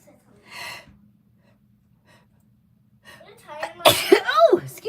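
A single sharp sneeze from a woman at a tarot card reading table, preceded by a quick intake of breath and followed at once by people talking nearby over a faint steady background hum.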